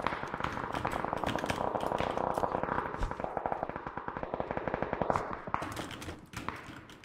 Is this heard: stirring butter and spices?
no